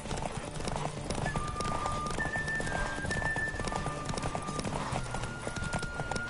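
A horse gallops at speed in The Witcher 3 video game, steady rapid hoofbeats with faint tonal game sounds layered over them.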